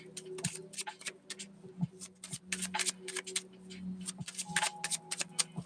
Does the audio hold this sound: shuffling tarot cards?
yes